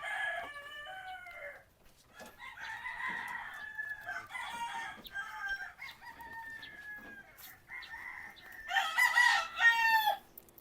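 Crossbred White Kelso breeding chickens on a farm crow and cluck at moderate distance, with overlapping calls and a louder burst of crowing near the end.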